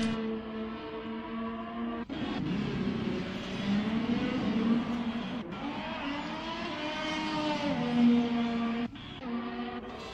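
A racing car on a flying lap, a continuous high engine whine that rises and falls through gear changes, with brief sharp dips as it shifts, sounding smooth and somewhat distant.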